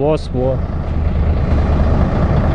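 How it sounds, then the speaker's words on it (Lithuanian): A truck with weak batteries barely cranks into life: after a brief voice, a low, uneven engine rumble sputters and holds, rough and close. "Sukeliu sunkvežimį, bet vos."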